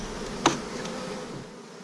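Honeybees buzzing in a continuous low drone around an opened hive during a transfer from an overwintered nuc to a full-sized hive, with one brief, closer buzz passing by.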